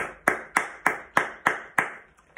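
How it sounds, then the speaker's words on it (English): A school Year 6 class claps in a slow, steady beat, six or seven sharp, distinct hand claps evenly spaced and close by, with no talking. "Stand up, big smiley faces, and have your big round of applause too."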